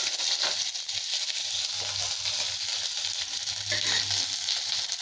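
Onion and green chilli frying in oil in a pan for mixed vegetable kurma, a steady loud sizzle that continues throughout with no one speaking.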